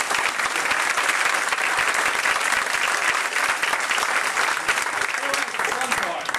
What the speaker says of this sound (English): So a round of applause for Richard Rizzo.